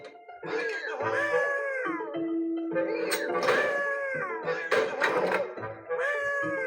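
Cats meow repeatedly in the Dark Riddle video game: a run of rising and falling meows, close and fairly loud, over a steady background of game sound.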